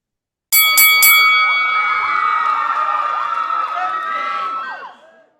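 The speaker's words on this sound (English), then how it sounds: "Ring the bell." A bell sound effect from a wrestling podcast, struck sharply two or three times in quick succession, then a cheering crowd swells and rings out for several seconds before fading, loud and close with no talk.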